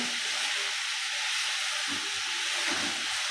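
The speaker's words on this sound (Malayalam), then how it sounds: "ഇതിലോട്ട് ഒരു ഇഞ്ചിയും വെളുത്തുള്ളിയും ചതച്ചത് ഇടുന്നുണ്ട് കേട്ടോ. അതും കൂടി കിടന്ന് റോസ്റ്റ് ആവട്ടെ." Crushed ginger and garlic roasting in a pan for a okra tamarind curry, a steady bright hiss and sizzle that holds evenly throughout with no voices.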